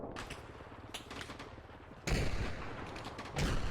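Gunfire in an Arma video game battle, a steady crackle of distant shots that grows into heavier, louder bursts partway through and again near the end.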